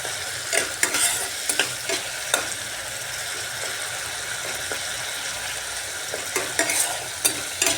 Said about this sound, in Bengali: এবার ঢাকাটা সরিয়ে মশলাটাকে ভালো করে কষিয়ে নিতে হবে